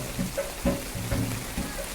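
Heavy rain falls through the night on a village, giving a steady, fairly loud wash of patter with no voices heard.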